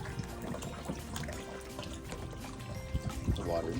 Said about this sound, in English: The water's dripping on me